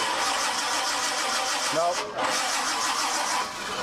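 A Chevy Chevelle engine cranks without catching, a continuous loud whirring churn from the starter that dips briefly midway, while someone says a single short word over it.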